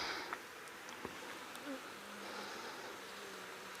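Honeybees hum softly and continuously while a hive is worked during nuc installation, a low steady insect drone with faint handling clicks and no speech.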